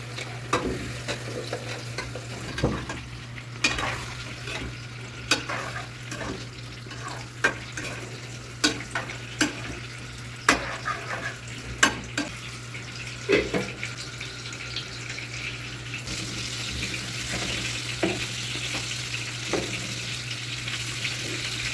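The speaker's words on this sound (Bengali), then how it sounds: "একদিকে মাছের ভাজি হচ্ছে আর অন্যদিকে তরুই রান্না করার জন্য আমি মশলা কষিয়ে নিয়েছি এখন তরইগুলো আমি এর মধ্যে দিয়ে দিচ্ছি" Fish frying beside ridge gourd being stirred into spiced oil in a home kitchen pan, with a steady close sizzle, repeated sharp utensil scrapes and clinks, and a constant low hum throughout.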